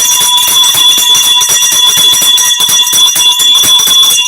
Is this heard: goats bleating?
no